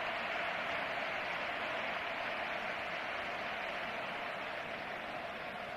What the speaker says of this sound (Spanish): El público despide con una impresionante ovación a Fernando Hierro.